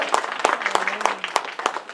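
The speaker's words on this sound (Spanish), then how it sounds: "Denle ese aplauso al Señor, hermano" A church congregation claps at a Sunday service, a sparse, rhythmic applause of distinct sharp claps at a steady beat, fairly close, with a faint voice underneath.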